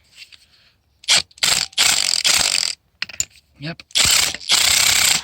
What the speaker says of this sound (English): we've got a 17mm on the rattler, again 17mm nylock nut